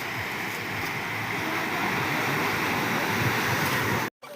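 A vehicle drives through floodwater on a village street in Garhi Dolat, Shamli, making a continuous loud wash and rush of water that holds steady, then cuts off abruptly at the end.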